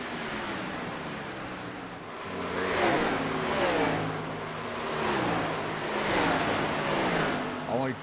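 Race cars lapping Pocono in a sim racing game, engines swelling and fading in waves as cars pass, with a continuous roar underneath.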